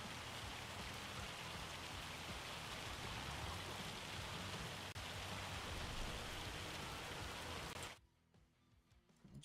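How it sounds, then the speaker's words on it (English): Heavy rain and hail pour down steadily in a farming video game, a dense, loud hiss that holds for about eight seconds, then cuts off abruptly to near silence. "And here's the hail."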